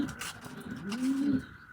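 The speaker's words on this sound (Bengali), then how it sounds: "আমার হাতে যে কবুতরটা নর কবুতর" A male racing pigeon gives one soft, low cooing call up close, a single drawn-out throaty note with a slight rise and fall, heard without any talk.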